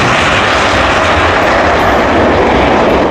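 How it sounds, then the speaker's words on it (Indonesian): A propeller or jet airplane drones loudly and steadily without a break, a dense broadband roar close by with no voices. "di belakang sini ada pesawat terbang."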